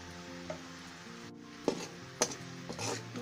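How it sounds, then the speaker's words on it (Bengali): Shrimp dropped into fried spices in a pan, giving a steady, moderate sizzle with a few sharp clinks and stirring scrapes over the top. "মশলাগুলো ভুনা করা হয়ে গেছে, চিংড়ি মাছগুলো দিয়ে দিচ্ছে।"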